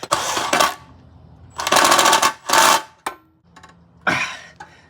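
A ratchet tightens an oil pan bolt on a Miata in several loud, close bursts of rapid clicking, with pauses and a few single clicks and metal taps between them.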